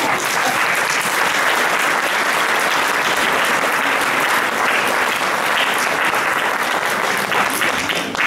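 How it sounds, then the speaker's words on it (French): Steady applause from an audience filling the whole stretch without a break, dense and fairly loud, greeting news that a parish in Les Sables d'Olonne is moving to 40 avenue d'Anjou. "Ça mérite quelques applaudissements."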